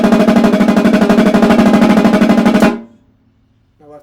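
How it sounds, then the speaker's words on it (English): Double stroke roll played on a drum, a loud, fast, even stream of strokes that stops abruptly, leaving a short ringing decay and then a faint tone. "When you have a double stroke roll, you kind of want that machine gun type sound"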